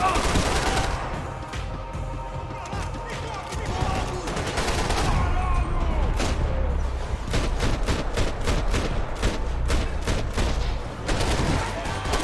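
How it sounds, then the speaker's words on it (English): Gunfire in Max Payne 3, dense rapid bursts of shots, loud and close, with long automatic volleys running steadily through the latter half, a voice talking over it briefly. "Why is your gun still shooting?"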